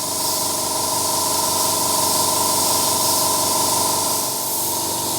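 An airbrush driven by a Sparmax TC 620X twin-piston compressor sprays a broad pattern, giving a steady, continuous close hiss with a faint motor hum beneath, and no breaks.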